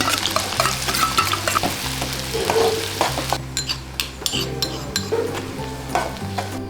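Bihari bhujia fries in oil with a strong, close sizzle over a low, pulsing hum. Sharp utensil clinks and stirring taps come through more clearly as the frying noise eases in the second half.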